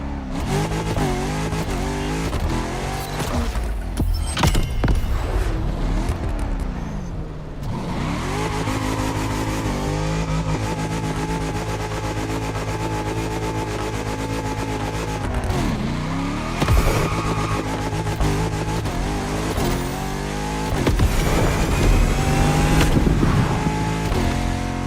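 A car driving in the racing game The Crew Motorfest, engine revving and climbing through gears with repeated shifts, tire squeal and skidding, loud and continuous throughout with no talk.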